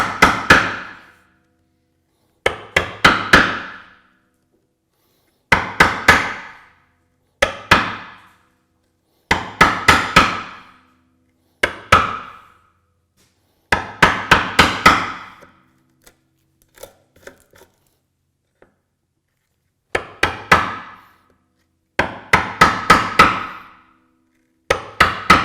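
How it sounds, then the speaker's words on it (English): A chisel struck with a mallet chops a shallow quarter-inch mortise in wood for a hand-built bookcase: crisp, close knocks in bursts of several blows, separated by short pauses, with no talk. "So this is much like mortising. So you're getting sort of a mini mortise lesson here."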